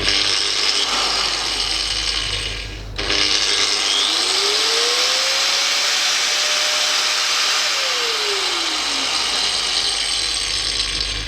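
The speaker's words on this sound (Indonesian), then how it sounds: "ketika dinyalakan dia tidak akan langsung naik ke 400 watt. Jadi naik secara pelan-pelan." Enka DS6203B angle grinder with a soft starter spinning up, a steady loud whine that starts after a brief pause and climbs gradually in pitch, holds high, then winds down, with no talking.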